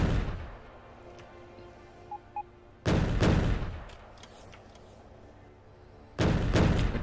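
Artillery cannons fire in the video game Factorio, two heavy booming blasts a few seconds apart with decaying rumbles over a quiet hum, plus a couple of small clicks before the first shot.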